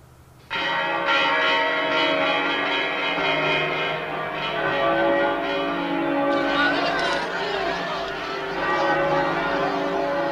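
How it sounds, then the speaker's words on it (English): Church bells ring out at the end of the Spanish Civil War, a loud, rich peal of overlapping tolls with long sustained overtones that starts abruptly and continues steadily, near and alone. "The church bells began to ring."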